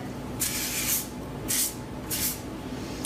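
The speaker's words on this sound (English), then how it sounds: "I'm just gonna use a little bit of thermal shine spray on my hair" KQC thermal shine heat protectant is sprayed onto hair in three short, close hissing bursts with brief pauses between, then a tiny final puff, and no voices.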